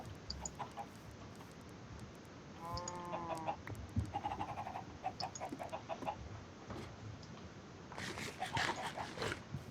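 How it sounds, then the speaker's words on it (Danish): Chickens cluck and squawk repeatedly in a video game farm, with a rooster-like call partway through, close and lively bursts over a faint background bed. "Jeg har en masse kyllinger med her."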